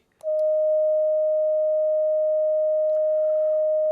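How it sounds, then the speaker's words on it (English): A steady, pure 620 Hz tone from a small electronic oscillator holds at one pitch for several seconds after a brief click, with faint rustling near the end. "a small electronic oscillator that plays a pure tone of 620 Hz frequency"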